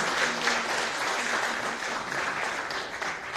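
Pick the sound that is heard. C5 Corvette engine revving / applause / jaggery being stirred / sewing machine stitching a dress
applause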